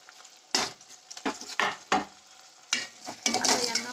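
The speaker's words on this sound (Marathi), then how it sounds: "आता यांना परतून घ्यायचं।" Tomatoes sautéed in a pan with ginger-garlic paste, stirred with a spatula: a series of close scraping, sizzling strokes arriving in irregular bursts, with faint frying hiss between them.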